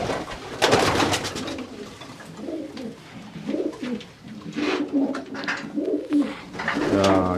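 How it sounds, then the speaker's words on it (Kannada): Female homer stock pigeons coo inside a loft, giving soft, rolling coos that overlap in a steady, close chorus, broken by a brief flutter of activity. "ನೋಡಿ ಸಾರ್ಲಾಫ್ಟಲ್ಲಿ ಇದೆಲ್ಲ ಸ್ಟಾಕ್ ಬರ್ಡ್ ಫೀಮೇಲ್ಸ್"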